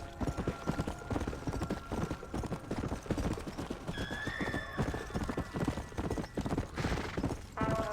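Rapid clip-clop of a horse's hooves at a gallop in the game Red Dead Redemption, loud and steady throughout, with a horse whinnying partway through and a high tone near the end.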